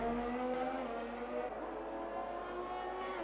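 A Ferrari race car in a sim racing game lapping Imola, its engine a steady sustained roar held close for the whole stretch with no talk over it.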